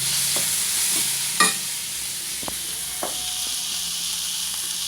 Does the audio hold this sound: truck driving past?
no